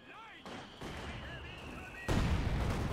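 Artillery counter-battery fire in the WWII strategy game Company of Heroes 2, shelling heavy mortar positions: steady booming barrage with whistling shells, swelling into a louder, denser run of blasts near the end.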